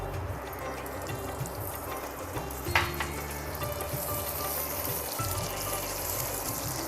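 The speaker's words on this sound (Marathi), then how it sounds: "सर्वप्रथम आपण घालूया तेल मग आपण घालूया उडदाची डाळ" Urad dal frying in hot oil for a chutney, giving a steady continuous sizzle with faint stirring scrapes throughout and no talking.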